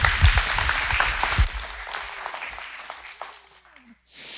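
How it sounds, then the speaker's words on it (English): Audience applause at a talk, a full burst of clapping that thins out and fades to near silence before a brief swell at the end. "give Joy a round of applause"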